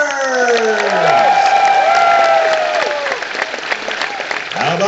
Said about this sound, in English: And now put your hands together for Mr. Bernie Burns.